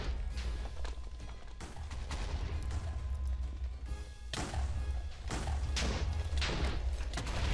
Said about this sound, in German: Ich höre schon ganz viele Pfeile explodieren.